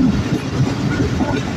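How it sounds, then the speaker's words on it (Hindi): A train passing through Shahdara Junction railway station on the Lahore to Rawalpindi line, heard as a loud, steady low rumble with a rhythmic clickety-clack of wheels, close and continuous. "7:27 पर हम थ्रू पास हो रहे हैं शाहदराबाद जंक्शन रेलवे स्टेशन से।"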